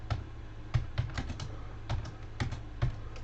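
Typing on a computer keyboard, a run of close, sharp key clicks in uneven bursts with short pauses between, loud and alone with no voices.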